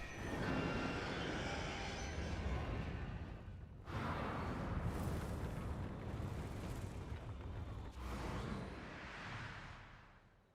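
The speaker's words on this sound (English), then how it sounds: "we use rockets" Rockets firing in Zelda: Tears of the Kingdom, with loud roaring thrust bursts in three surges, each starting abruptly and rushing on before fading.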